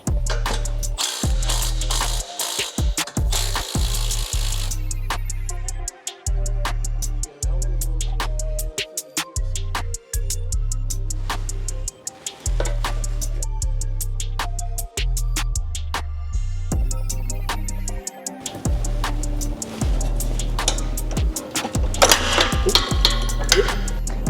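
A ratchet wrench removing 14 mm exhaust bolts on a Toyota GR Corolla, rapid clicking ratchet strokes repeating in quick bursts with short pauses, close and fairly loud throughout.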